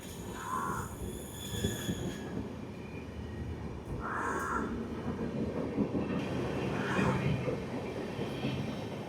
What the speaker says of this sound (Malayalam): അതാ നമ്മുടെ ട്രെയിൻ പോയി